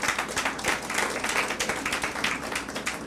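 A congregation at a church service claps for the Lord, a dense continuous wash of applause at moderate distance, even in level for about three seconds with no voices on top.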